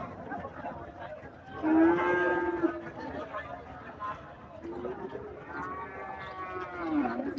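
Two long, low moos from cattle close by at Chandaikhana livestock market in Raiganj, Sirajganj, separated by a pause, with market chatter and crowd noise murmuring underneath.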